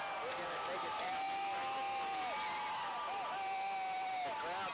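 A high school football crowd at a Round Valley vs Blue Ridge game cheers and whoops loudly after a long running play, a dense continuous roar with shrill whistles, and a commentator talks over it.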